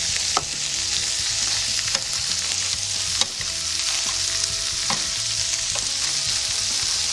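Shrimp and vegetables stir-frying for noodles, a loud, steady sizzle with repeated scraping and clattering stirs from a pan close by, with no voices.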